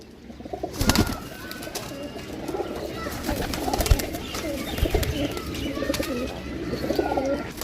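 Pigeons coo repeatedly at a bird sale, with soft, rounded calls recurring throughout amid sharp knocks, rustling and flutters nearby, and no clear speech over them.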